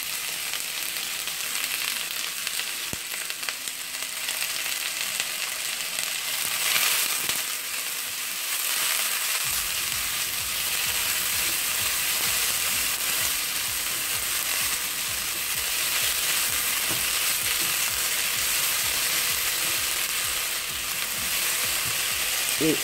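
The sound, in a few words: onion added to frying roast sauce, sizzling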